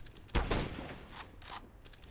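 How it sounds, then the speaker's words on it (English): A grenade detonates in Counter-Strike on the Office map, a sudden muffled burst followed by quieter crackling game noise, all at a low level. "That was a nice nade."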